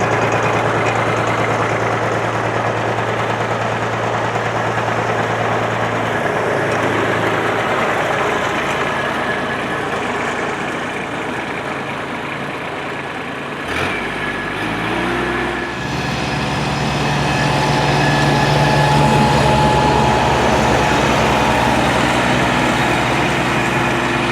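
Riding lawn mower engine running with a fan-powered canopy attached, a loud continuous drone that steadies, shifts pitch briefly partway through, then keeps running close by.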